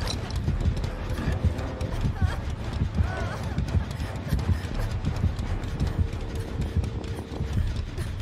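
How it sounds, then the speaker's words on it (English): In the Dead by Daylight video game, a horse's hooves clip-clop in a steady rhythm close by, with a couple of brief neighs rising over the game's background noise. "What's up, Horsey? I hear you."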